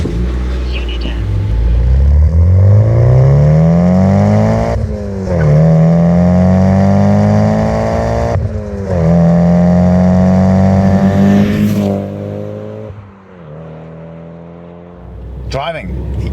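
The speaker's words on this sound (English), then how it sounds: "Let's take the very last Silvia ever made for a drive" A Nissan 200SX S15 Silvia accelerates hard from close by, its engine note climbing steadily through the gears with brief dips at each shift and a fading rev near the end.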